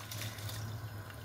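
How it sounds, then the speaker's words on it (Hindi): Rice slid into a pot of boiling water with chickpeas for chana pulao, a brief close bubbling and watery pouring wash with a steady low hum underneath. "पानी को बॉईल आना शुरू हो गया, अब इसमें चावल डाल देते हैं आराम से"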